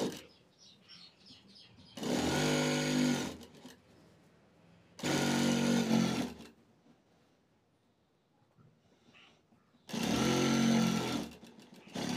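A sewing machine stitches a long blouse in three loud, even bursts of whirring, each about a second long, separated by quiet stretches.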